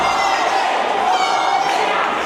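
A wrestling arena crowd cheers and roars steadily for wrestler Will Allday, a dense wash of voices sustained throughout the short stretch.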